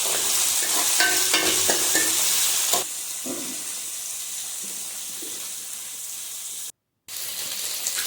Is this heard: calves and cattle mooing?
no